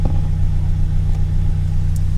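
A car engine idles steadily just under 1,000 RPM after new spark plugs at 150,000 miles, a constant low rumble held at an even level throughout with no revving.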